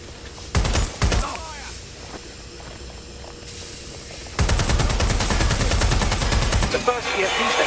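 Gunfire in Watch Dogs: Legion: two early shots, then a long sustained automatic burst of rapid rattling rounds, loud and close, with faint voices underneath.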